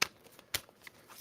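A tarot card deck is shuffled in a few quick, crisp riffling bursts, close and fairly quiet, with no talking.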